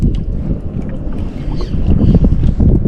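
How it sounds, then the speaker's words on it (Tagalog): Strong wind buffets a small fishing boat at sea, a steady loud rush of wind noise on the microphone with boat and water sounds beneath, continuous throughout and no speech. "Lakas ng hangin."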